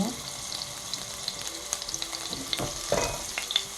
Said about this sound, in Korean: 팬에 식용유를 좀 두르고요. 그 다음에 마늘을 먼저 볶습니다